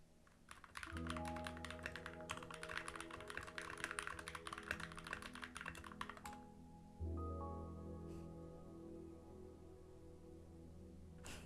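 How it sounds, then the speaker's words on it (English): Quick runs of computer keyboard keystrokes click close by over soft sustained background music, then stop and leave the music playing alone. "I'm just typing."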